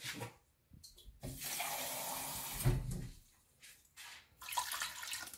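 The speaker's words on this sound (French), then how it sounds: "je vais rajouter de l'eau parce qu'il n'y a pas assez d'eau" Water poured from a tap into a cooking pot for a light fresh-fish sauce, coming in several short splashing bursts with gaps between them, close and fairly quiet.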